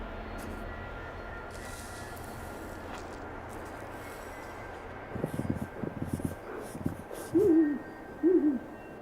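An owl hoots twice near the end, clear low hoots following a stretch of quiet cold-night ambience and some soft rustling thumps in an Arctic forest.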